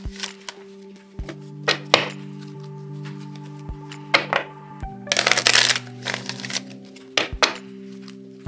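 Tarot cards are shuffled in several short, crisp riffling bursts, with clicks and light taps between them over a steady hum.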